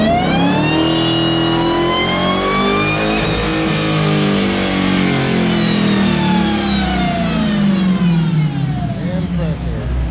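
A Dodge Demon running race gas revs hard at full throttle, its engine note rising and sweeping in pitch as it strains, loud and close throughout with a roar that never lets up.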